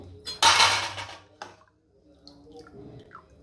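A steel mixer grinder jar is picked up and set down in a kitchen, giving one loud metallic clatter, then a shorter clink and faint scattered taps and handling noises that trail off.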